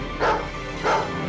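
Two sharp barks from a cartoon dog, Spike from Tom and Jerry, sounding loud and close with a short pause between them and no talking.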